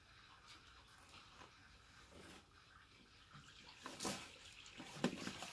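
Running water flows steadily in the background of a tabletop Dungeons and Dragons session, a soft continuous hiss and trickle with a few louder splashy surges toward the end.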